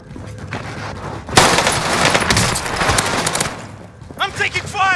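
A video game shootout erupts in a dense burst of rapid automatic gunfire lasting a few seconds, loud and close, with a voice speaking near the end.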